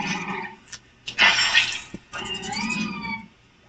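A Pokémon cries in Pokémon Scarlet with a short synthetic creature call: a brief chirp, then a louder bright screech and a wavering, falling tonal wail, fairly loud and close.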